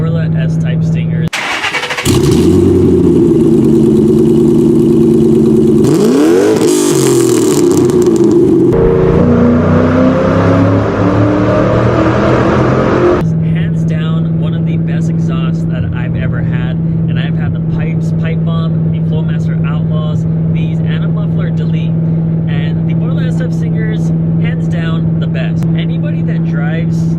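A cammed Mustang GT with a Borla S-type stinger exhaust starts and revs loudly, with sharp throttle blips and a rumbling idle. Its tone turns rougher and raspier, as if straight-piped, and settles into a steady, choppy cam lope.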